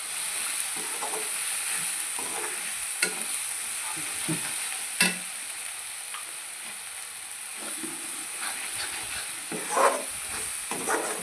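Egg masala curry being stirred in a pan, a steady frying sizzle and hiss underneath with scattered scrapes and clinks of the spoon against the pan, close and fairly quiet, no talking.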